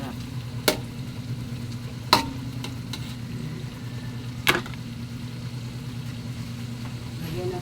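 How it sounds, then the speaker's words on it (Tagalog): Tomatoes cook in a pan with a low, steady sizzle and frying hiss, broken by a few sharp clicks of utensils scraping or stirring at close range, with no talking. "Lutuin natin ang kamatis mga kababayan"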